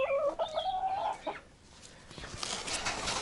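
Rescued hens clucking close by in a series of short, uneven calls, then a scratchy rustle of birds moving about, with no talk.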